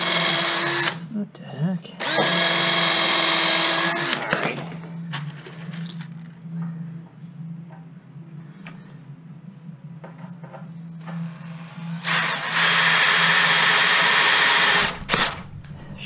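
A power drill drives screws into a basement storage shelf, with loud high whirring bursts separated by quieter gaps and a steady low hum beneath, while a person speaks briefly.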